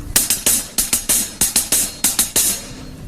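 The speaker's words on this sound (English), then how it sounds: "you could also have 2 16s and an 8." Drum ostinato repeating a two-sixteenths-and-an-eighth figure, each group of three crisp, close strokes with a ringing cymbal-like top, cycling steadily about eight times with no voices.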